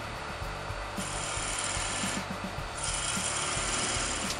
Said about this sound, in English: I use my parting tool and I part on either side of what is going to be the ring.